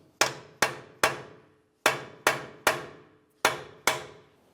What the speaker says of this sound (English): Use a hammer and punch to break the axle free from the wheel bearing.